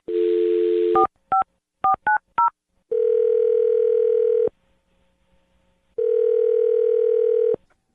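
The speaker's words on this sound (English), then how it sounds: "I'm going to dial his phone number right now" A telephone is dialed with a quick series of DTMF tones, followed by two long ringback tones separated by a short silence, all clear and loud on the line.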